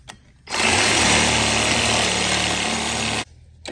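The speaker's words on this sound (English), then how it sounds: "Basically, you just wanna cut this rod out." Power tool cutting a rod off a Nissan 350Z transmission, a loud sustained grinding whine that starts abruptly and runs nearly three seconds before cutting off, with quiet shop ambience around it.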